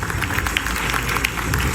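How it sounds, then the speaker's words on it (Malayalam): An audience applauds for students receiving certificates at a Qatar award ceremony, a steady wash of many hands clapping close and fairly loud throughout the short moment. "സദസ്സ് നിർലോഭം അവർക്കായി കൈയടിച്ചു."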